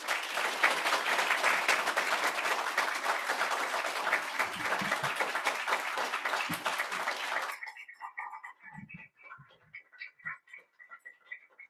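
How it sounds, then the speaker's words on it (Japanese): Ceremony audience applauds in a sustained burst of dense clapping at an entrance ceremony, loud and steady for about seven seconds before breaking off into a few scattered claps and faint room noise. "どうか会場の皆さん、激励の拍手をお願いいたします"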